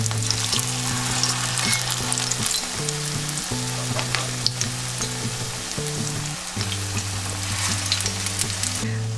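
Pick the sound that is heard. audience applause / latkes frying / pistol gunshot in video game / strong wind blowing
latkes frying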